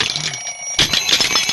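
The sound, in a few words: alarm clock ringing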